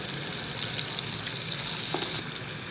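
Whole red chilies, cinnamon, cloves, crushed red chili and black pepper fry in a pan for Irani beef korma, making a dense, continuous close sizzle with faint stirring touches and no voices.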